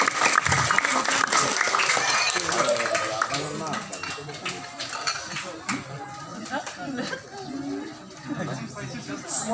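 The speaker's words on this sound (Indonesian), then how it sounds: "Tepuk tangan semuanya dong." A crowd of neighbours claps together at an Indonesian Independence Day thanksgiving gathering, a loud burst of applause that fades over several seconds while voices and chatter continue beneath.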